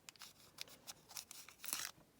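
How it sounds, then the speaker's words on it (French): Scissors snip and crunch through the wrapping of a small package in quick, faint, repeated cuts, close up with no talking. "je vais peut-être prendre les ciseaux avant de perdre un doigt"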